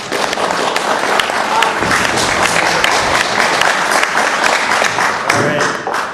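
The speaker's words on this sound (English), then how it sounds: "Come on, clap your hands." An audience at a municipal law seminar claps along in sustained, dense applause that fills the room for several seconds, with a voice audible beneath it.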